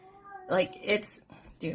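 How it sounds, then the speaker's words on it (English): A domestic cat meows a few times close by, short plaintive calls mixed in with a person talking casually. "I don't know if you hear them meowing"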